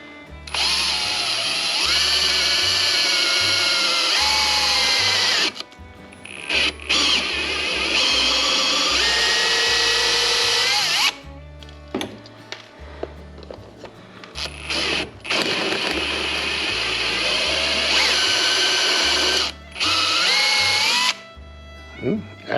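A power drill bores a 3/8-inch hole through a Volkswagen distributor. Long whining bursts are broken by pauses, and someone talks briefly between them.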